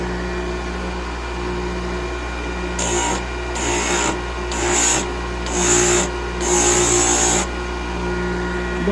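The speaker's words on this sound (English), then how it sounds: "just use a cheap disc sander" A cheap disc sander squares the end of a pen blank in five raspy grinding passes of about half a second to one second each, loud and close over the machine's steady motor hum, with no talk.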